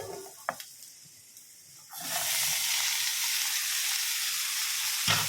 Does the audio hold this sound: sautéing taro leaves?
yes